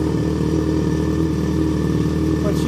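A 2024 Suzuki GSX-S1000 fitted with a full Dominator exhaust idles close by, holding a steady, deep, lumpy rumble with no revving.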